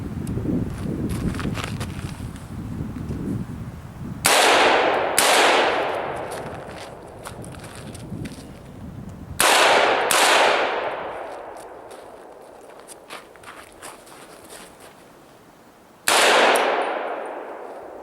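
AR-15 rifle in 300BLK firing at steel target plates about 40 yards away, five sharp loud shots in uneven pairs and singles, each followed by a ringing clang of steel and a decaying echo.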